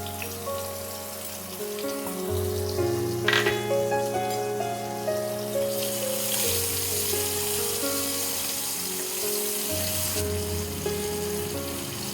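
Chopped onions dropped into hot oil with black cumin (kalo jeere) while making pomfret tok jhal, giving a steady close sizzle and crackle that swells after a few seconds and runs on under a low hum, with no talk.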